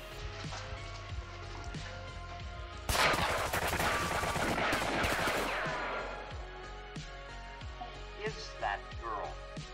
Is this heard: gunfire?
yes